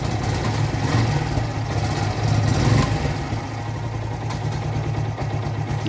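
A Yamaha FZ16 (FZ 150) motorcycle with a cold-start problem idles low and rough, a steady loud engine rumble close by with a faint uneven pulse throughout and no talking.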